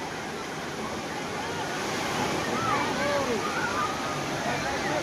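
Sea waves roaring on the beach at Digha, a dense, loud, continuous surf wash building slightly, with some wind buffeting the microphone.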